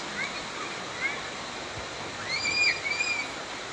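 A strong river current in Liliw, Laguna rushes with a soft, steady broadband wash heard from a short distance, while faint voices come and go over it.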